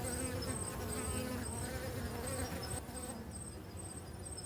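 Bees buzz around traditional beehives in Asir, a faint, steady drone of many insects mixed with a soft outdoor background and a repeating high chirp, without any clear voice.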